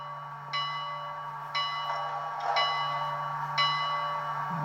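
A model steam locomotive's sound-equipped bell, on a Bachmann GS4 4-8-4 with DCC sound, rings in four evenly spaced strikes over a steady low electric hum, with a light mechanical clatter.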